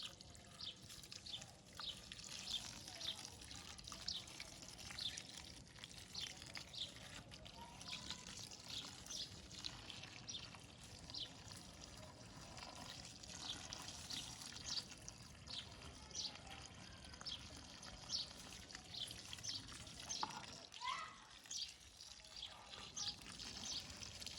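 A steady, faint trickle of water runs onto dry soil in garden plant pots for a long stretch, soaking in continuously, with soft birdsong-like chirps in the background.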